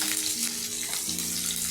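Chopped onion with green chillies frying in hot mustard oil in a pan for an aubergine-and-egg bharta, giving a steady, close sizzle with a constant hiss and a low stove hum underneath.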